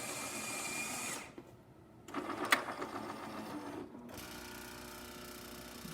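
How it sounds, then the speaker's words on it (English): A Jura Impressa S8 espresso machine, freshly fitted with a new brew group, grinds and pumps a single shot, a low mechanical hum with buzzing phases and short pauses, fairly quiet. "Let's do one shot of espresso."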